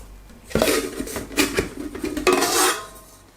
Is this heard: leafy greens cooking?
no